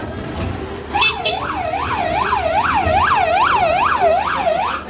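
A loud wailing emergency-style siren from a vehicle that is not an ambulance sweeps up and down in a steady repeating rhythm on a street in Jerusalem's Old City, close and dominant for several seconds.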